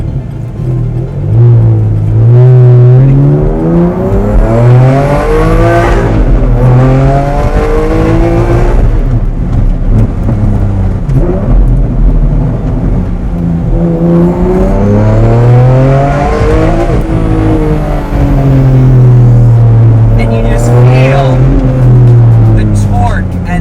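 A Ferrari Enzo V12 with straight pipes revs hard and accelerates in repeated sweeping pulls, each rising and falling, very loud and close with a raw, aggressive edge, and talk is heard faintly under it.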